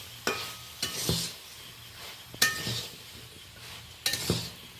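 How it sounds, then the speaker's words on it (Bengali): Vegetables sauté in a covered pan that has just been opened, turned over with a utensil in about four distinct scraping, clinking strokes over a low, continuous sizzle, close by and without speech. "ভালো করে উল্টে পাল্টে নেড়ে নিচ্ছি।"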